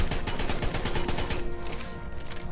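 Rapid gunfire in ARK: Survival Evolved, a dense run of loud, close shots for about a second and a half. It gives way to a lower, rumbling stretch of continuous noise.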